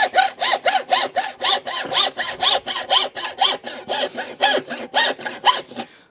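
A Parkside 3-in-1 hand saw cuts through wood laminate in steady back-and-forth strokes, about eighteen rasping passes in an even rhythm, close and clear with no talk.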